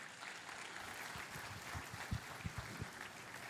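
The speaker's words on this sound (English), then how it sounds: "So will you give him your biggest round of applause" Applause from the audience at the React India conference as the next speaker is welcomed to the stage, a steady, fairly faint patter of many hands with a few sharper claps near the end.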